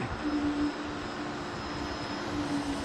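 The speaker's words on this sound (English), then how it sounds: "You can hear the regenerative brake when I hit it." A steady high-pitched electric whine from an Inmotion RS electric scooter's regenerative brake over a broad rushing hum while riding, continuous and fairly close, no voices.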